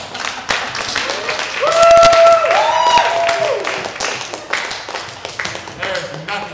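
Audience applause at a Sunday night show, scattered claps and taps rising and falling across several seconds, with a voice speaking over them.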